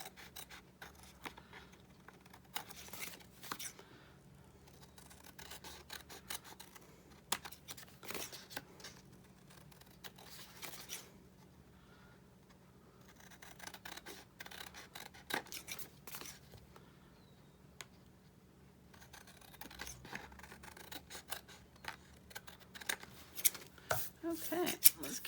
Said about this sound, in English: And then I'm going to trim the excess off.